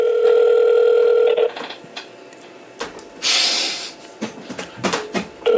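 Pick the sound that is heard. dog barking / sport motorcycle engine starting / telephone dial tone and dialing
telephone dial tone and dialing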